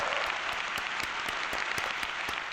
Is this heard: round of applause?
yes